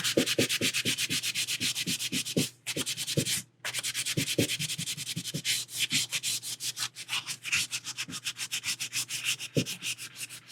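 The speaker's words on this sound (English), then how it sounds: "It gets sanding dust everywhere, as sanding does in general anyway." Steady, rhythmic rasping of sandpaper rubbed back and forth across the hard surface of a quarter-scale Deadpool model, close and continuous with two brief pauses.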